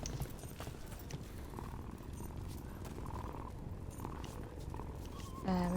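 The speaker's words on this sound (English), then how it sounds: "We gotta pet all the cats." A cat purring in the Dragon Age: Veilguard video game, a soft, low, continuous rumble behind game ambience.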